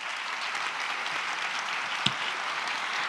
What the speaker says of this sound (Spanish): por eso también les pido un aplauso para los panelistas